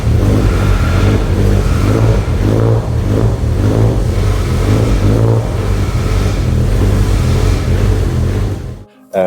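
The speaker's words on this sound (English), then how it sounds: "as you could tell with how the car was idling, it's a little bit haunting" BMW S85 V10 engine idling unevenly in an E46 M3, a loud, close, low rumbling drone with a wavering, pulsing rhythm that hunts rather than holding steady, then cuts off abruptly near the end.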